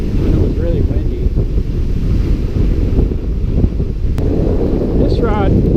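Strong wind buffets the microphone outdoors while fishing with a Shakespeare 1755 reel, a loud, constant rumbling roar that nearly masks a faint voice and some distant higher sounds.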